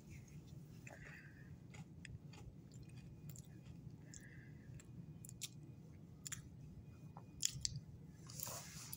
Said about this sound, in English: let's give this one more bite.